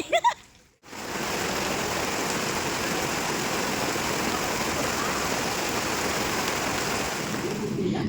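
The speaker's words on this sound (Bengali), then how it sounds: "রাতভর ধরে বৃষ্টি হচ্ছে, তোমরা সেটা দেখতেই পাচ্ছ" Heavy overnight rain pours down steadily in a dense, even roar close by, continuing without a break for several seconds after a brief quiet moment at the start.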